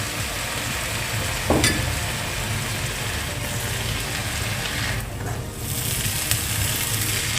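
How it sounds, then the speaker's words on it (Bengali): Mixed vegetables and a previously fried egg being lightly fried in a pan for egg fried rice, a steady close sizzle running throughout with a couple of faint clinks and stirring scrapes, no talk. "আমি আর 1-2 মিনিট এটাকে একটু হালকাভাবে ভেজে নিচ্ছি সবজিগুলোকে"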